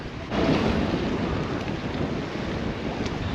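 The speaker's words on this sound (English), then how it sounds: "And there's the headwind." Strong headwind on a beach on the West Coast of Scotland roars into the microphone as a loud, continuous, close buffeting rush with no voices.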